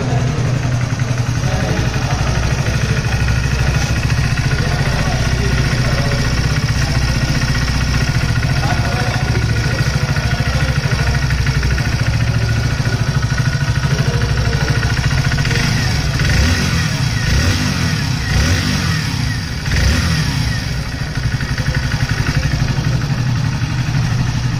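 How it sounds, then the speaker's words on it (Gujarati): A 2024 Hero Splendor Plus Xtec 2.0 motorcycle engine runs steadily at idle close by, a continuous low mechanical thrum with light clatter that holds level for the whole stretch, with no talking. "હવે મિત્રો આપણે બાઇક ચાલુ કરીને હું તમને બતાવું કે આનો અવાજ કઈ રીતનો આવે છે"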